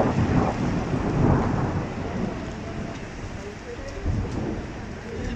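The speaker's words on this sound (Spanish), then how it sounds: "era una granizada bastante fuerte" A heavy hailstorm in Puno pelts down stones as big as marbles, making a dense, steady roar with low thunder rumbling through it, loudest early and then easing slightly.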